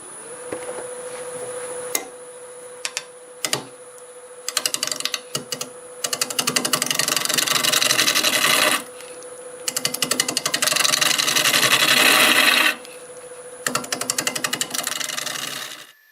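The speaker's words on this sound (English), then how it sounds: "I'm going to start with a 1/2 inch bowl gouge just to try to take smaller bites of that bark" A half-inch bowl gouge cutting the bark of a black walnut blank spinning on a wood lathe at about 700 RPM, loud rattling chatter in bursts separated by pauses, with a steady motor hum underneath.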